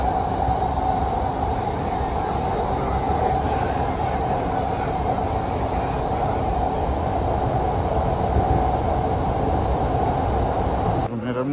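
A Doha metro train rumbles through a station in a steady, loud, continuous drone with a faint hum, and the noise stops abruptly at the end.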